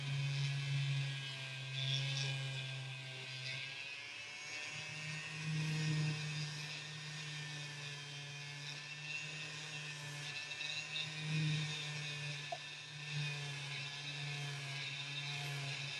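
A polishing wheel spins against a metal ring in a jewellery workshop, giving a steady continuous whir with a low hum that swells and eases as the ring is pressed in and lifted off, close and alone.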